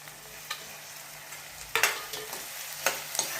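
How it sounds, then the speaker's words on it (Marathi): Tomatoes sizzling in hot oil in a pan for chole, steady frying hiss with occasional louder scrapes and clinks from stirring, close by and without speech. "त्याच्यात हे टमाटा पण टाकून घेऊ"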